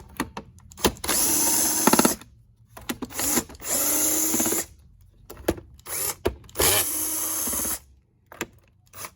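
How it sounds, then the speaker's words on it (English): Power drill backing screws out of the underside of a Windsor Sebo commercial vacuum, in four loud whirring bursts of a couple of seconds each, separated by short pauses and clicks. "So we're just going to take out 4 screws."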